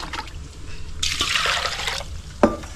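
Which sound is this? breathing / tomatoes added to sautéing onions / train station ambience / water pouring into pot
water pouring into pot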